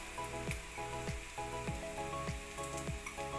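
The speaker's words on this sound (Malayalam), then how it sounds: "നമ്മുടെ വെളുത്തുള്ളിയും ചെറിയ ഉള്ളിയൊക്കെ നന്നായിട്ട് വഴറ്റിയിട്ടുണ്ട്" Garlic and shallots sauté in a pan with a soft, continuous frying sizzle and a rhythmic series of repeated stirring strokes, fairly quiet and close, with no talk.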